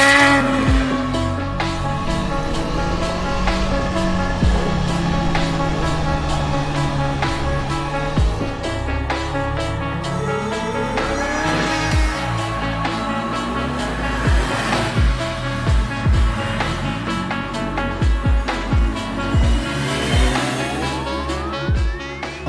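A supercharged 2020 Kawasaki ZH2 motorcycle is ridden hard, its engine loud and close and holding a constant roar, rising and falling in pitch as it revs up and shifts through the gears, with no talking.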